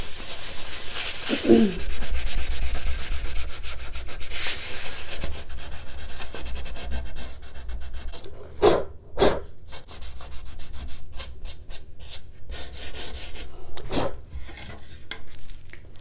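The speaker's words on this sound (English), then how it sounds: "just a really fine grit sanding sponge works great, or sandpaper" Continuous rough rubbing of a fine-grit sanding sponge on wood veneer filled with Dixie Belle Mud, close up, with a few sharp scrapes and brief pauses toward the end.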